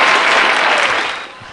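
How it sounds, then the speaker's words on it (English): A short, loud wash of constant applause from fans cheering a high school player, sustained without pause before tapering off at the end. "Constant applause there."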